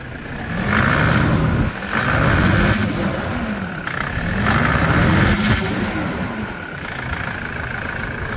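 A Toyota SW4 3.0 diesel in the workshop revs up repeatedly, about four rising engine pulls separated by brief drops back toward idle, loud and close.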